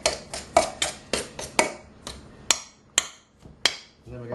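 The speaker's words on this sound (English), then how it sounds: "you just smash up the fat bits, best if you cut them into smallish pieces" Small pieces of fat for mince pie pastry are smashed up in a bowl, giving a series of about a dozen sharp, close knocks at an uneven rhythm with short gaps between them.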